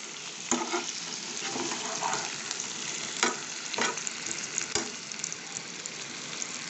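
Ground spice paste, made with milk and salt, sizzles in a pan after water is added. A continuous close frying hiss runs throughout, broken by a few sharp scrapes and clinks from stirring. No voices.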